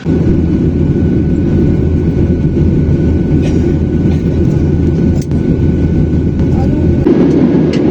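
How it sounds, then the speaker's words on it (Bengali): An airliner cabin just after departure from Bangkok fills with a loud, steady, low engine drone that stays constant and close throughout. "এবার আমরা বিমানে উঠলাম, এই একটু আগে বিমান ছেড়ে আসছে।"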